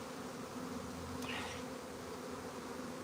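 A swarm of honey bees around a hive box hums in a dense, continuous buzz, steady and enveloping, with a few closer individual bees flitting past.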